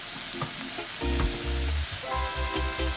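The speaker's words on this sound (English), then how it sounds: "I just put everything in because I want them to fry up a bit and start cooking" Okra, carrots and pimento berries sizzle and fry in a pot, a steady crackling hiss broken by short clatters and scrapes of stirring, close and alone without talk.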